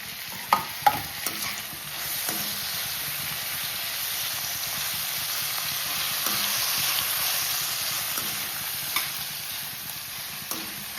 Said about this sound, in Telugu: ఇలా సాఫ్ట్గా అయిన తర్వాత టమాటాలు వేశారు టమాటాలు వేసి వేయించారు